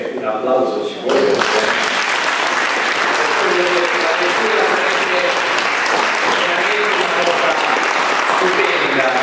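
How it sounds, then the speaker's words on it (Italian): Audience at a book presentation breaks into loud, sustained applause right after a brief spoken line, a dense clapping that continues evenly to the end. "Un applauso ci vuole."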